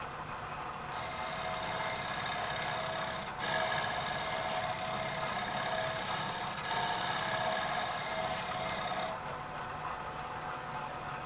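A scraper shear-scrapes spinning wood on a lathe, producing a continuous close rasping hiss over the steady motor hum, with a faint high whine and slight shifts in intensity, and no talking.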